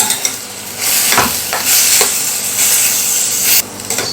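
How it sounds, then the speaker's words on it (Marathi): Millet gets stirred into a hot garlic tempering in a pan, with a loud close sizzle and several scraping stirs of a spoon against the pan, alone and with no voices. "राळे छान या फोडणीमध्ये मी मिक्स करून घेतलेले आहेत"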